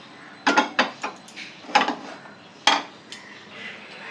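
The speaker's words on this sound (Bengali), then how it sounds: "প্রথমে গ্যাসটা অন করে কড়াটা বসিয়ে দেবো।" A metal kadai set down on a gas stove in a home kitchen: a few sharp clanks and scrapes of metal on the burner grate, close and fairly loud, with short gaps between them.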